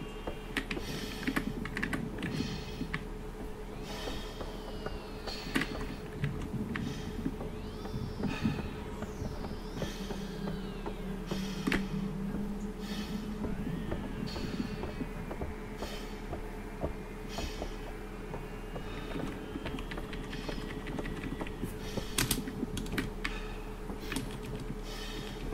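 Keyboard keys clack steadily in quick irregular bursts for the whole stretch as someone plays the game Alien: Isolation, with a constant low hum and faint game ambience underneath.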